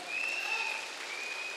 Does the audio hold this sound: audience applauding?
yes